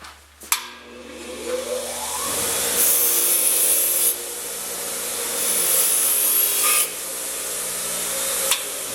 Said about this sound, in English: I want to take this one and put it through the wire wheel just to display how it is rust free